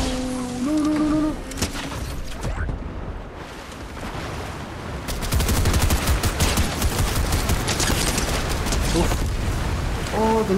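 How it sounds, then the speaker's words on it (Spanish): Bursts of rapid gunfire from a Fortnite match rattle continuously through a dense, roaring mix, with voices talking over the chaotic action. "Vamos los balazos."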